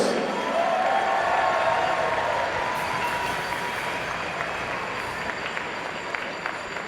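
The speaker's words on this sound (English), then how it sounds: "Let's have a nice round of applause for the Albany Bombers." Sustained applause for the Albany Bombers fills an indoor hockey arena, a broad crowd clapping and cheering that slowly fades a little over several seconds.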